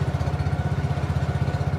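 An engine-powered motor boat on the Sarayu river putters with a fast, even, pulsing drone, loud and close throughout, with no talking.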